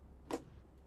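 A Valorant spike planted at site B gives off a single short, sharp tick, faint and alone against a quiet background.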